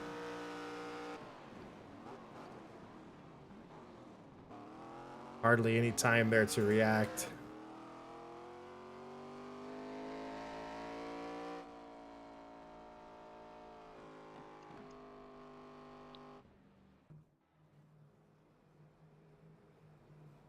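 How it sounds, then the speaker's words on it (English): Race car engine screaming at full speed, heard from onboard the 97 car during a FARCA race at Texas Motor Speedway, with a loud burst of a few seconds in the middle and a commentator talking over it throughout. "here's a full speed replay from the onboard of the 97 car"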